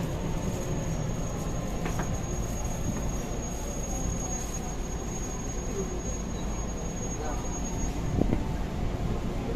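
A commuter train runs on the route from Jakarta to Bandung, giving a continuous rumbling rail noise with a faint high whine and occasional squeaks, with a voice talking over it.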